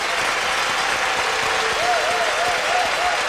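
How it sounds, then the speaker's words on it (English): A French crowd applauds a free dance at the 1997 World Figure Skating Championships, producing steady, dense clapping throughout with a faint tonal sweep over the noise. "And a big reaction from this French crowd."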